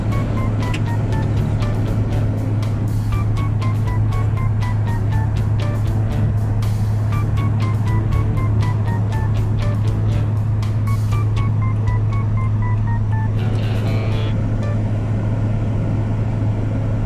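Car cruising on a long desert highway trip, a steady engine and road drone with constant low hum running throughout, accompanied by faint intermittent tonal beeps.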